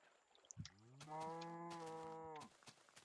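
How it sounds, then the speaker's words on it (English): A single cow in the video game Minecraft lets out one clear, sustained moo of about a second and a half, close and fairly loud over quiet background. "Moo goes the cow, I heard you."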